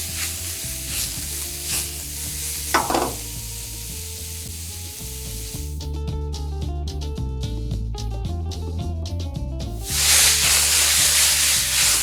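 Onions and bell peppers frying in oil for steak fajitas give a constant close sizzle with stirring rattles, over faint tonal background sound. The frying surges noticeably louder for the last couple of seconds.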